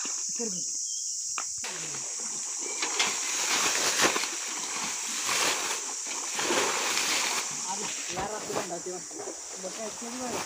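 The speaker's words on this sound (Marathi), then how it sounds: "आता आम्ही पाणी काढून तुम्ही बघालच की आम्ही किती पाणी काढतो." Pond water splashes and sloshes repeatedly as it is scooped and tossed out to catch fish, with people talking nearby throughout.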